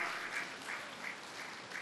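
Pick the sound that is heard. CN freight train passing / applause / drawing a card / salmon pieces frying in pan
applause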